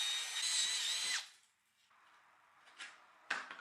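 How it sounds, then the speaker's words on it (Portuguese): A power drill bores out old rivets on an aluminium profile in one loud, steady whining burst, then drops away to a quieter pause broken by a couple of short scraping clicks. "Primeiro, vou remover esses rebites velhos furando-os."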